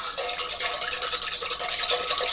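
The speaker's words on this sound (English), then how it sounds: "And I'm going to whisk that." Close, continuous scraping of a whisk stirring about two tablespoons of olive oil with oregano in a bowl, steady and busy for a couple of seconds, with no talk.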